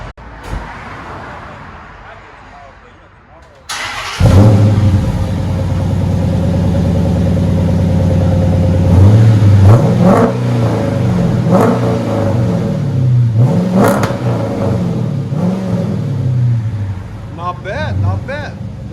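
Dodge Charger R/T with a 5.7L HEMI and Flow FX mufflers, revving loudly and close with deep exhaust rumble, rising blips and idle between revs, after a brief quieter stretch at the start.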